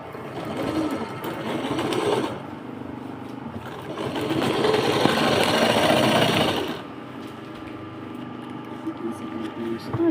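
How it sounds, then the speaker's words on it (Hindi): Sewing machine running in bursts while stitching a folded seam on a large handbag, with a long loud run in the middle and shorter runs before and after, heard close up under a voice talking. "अब हम इस पर ऐसे फोल्ड करके सिलाई लगा लेंगे।"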